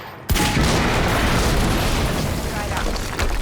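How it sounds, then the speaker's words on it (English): A loud, sudden boom from an explosion in the Quantum Break game, hitting sharply and then rolling on as a sustained broadband roar with debris-like rumble filling the rest of the moment. "we just heard an explosion near the harvesting perimeter"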